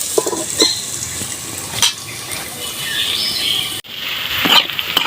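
Potatoes fry in a pan of hot oil, a close steady sizzle with scraping stirs and metal clinks against the pan, one sharp pause midway.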